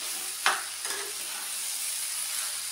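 Pasta stirred and tossed in a hot pan, a steady frying sizzle with a couple of sharp scrape accents near the start, close and without talk.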